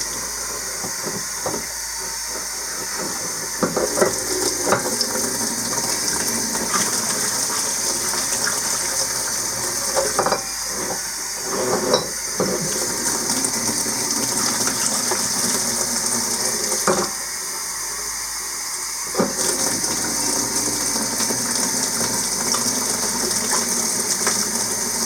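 Water gushes and splashes continuously as the outside of a glass demijohn is rinsed, with occasional clinks and rattles breaking through the steady running flow.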